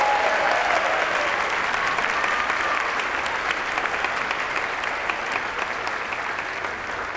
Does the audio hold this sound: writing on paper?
no